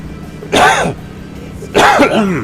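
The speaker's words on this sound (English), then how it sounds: "I got a bit of a cough today" Two harsh, throaty bursts about a second apart, close and fairly loud, like someone coughing or clearing their throat.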